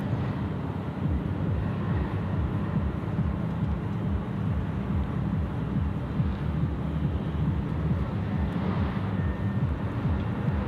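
A Cathay Pacific Airbus A350 jet takes off at Sydney Airport, its engines a steady, loud, broad roar that holds for the whole stretch with no one talking.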